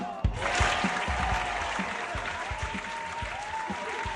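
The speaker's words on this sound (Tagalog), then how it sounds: "Sampung palakpak" Steady crowd applause at a rally for a senator, sustained and fairly even throughout, with scattered cheers and a voice faintly audible under the clapping.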